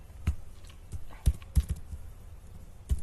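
Keystrokes on a computer keyboard while a COUNTIFS formula is typed into an Excel spreadsheet. The taps are close and crisp, coming in an irregular scattering of single presses and short bursts.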